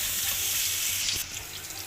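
A steady, loud sizzle of garlic frying in hot oil, close up, with a brief stirring scrape partway through.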